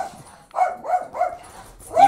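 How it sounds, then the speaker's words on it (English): A dog barks in a short burst of three or four close, loud woofs with a whiny tone, alone without speech. "Stop barking! It's just the mailman."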